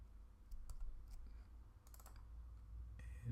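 Crisp computer clicks come in short clusters, a few sharp taps close together, then a pause and a final burst, close and fairly quiet over low room noise.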